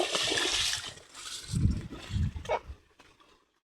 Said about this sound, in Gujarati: સાપકા ઉડે છે।